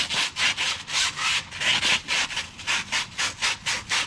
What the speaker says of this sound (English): super fine sandpaper. This is 222, or 220 I mean, and we're just going to clean the shaft.